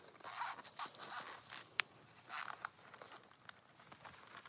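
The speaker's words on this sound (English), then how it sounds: "we are going to unzip our zipper" A double zipper on a sewn turtle tote bag is pulled open in short, close raspy bursts, quiet zipping strokes with small clicks and rustles of fabric between them, and no talking.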